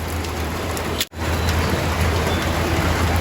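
Steady rain falls over a pigeon loft, a dense, even hiss that keeps going except for a brief dropout about a second in. No one speaks.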